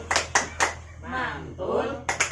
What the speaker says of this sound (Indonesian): mari kita tepuk mantul